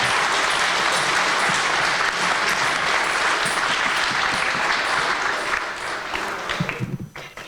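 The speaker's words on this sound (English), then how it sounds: "Let's give a big round of applause to Shruthi." Audience applause fills a hall after a Kuchipudi Rangapravesham dance performance, dense and steady for several seconds before thinning out toward the end.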